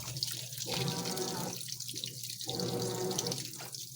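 A GE washing machine drains water in a gushing, rushing flow with rhythmic surges and short dips, close and continuous throughout.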